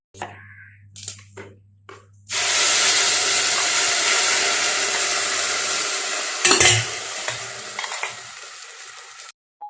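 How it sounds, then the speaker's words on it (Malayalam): Sudden loud sizzle as ground masala paste hits hot oil with cumin, settling into a steady frying hiss with a clatter of stirring partway through. "പാത്രം ചൂടായപ്പോൾ എണ്ണ ഒഴിച്ച് അതിലേക്ക് ഒരല്പം ജീരകം വീണ്ടും ഇട്ടിട്ട് അതിലേക്ക് നമ്മൾ അരച്ചു വെച്ച മിക്സ്"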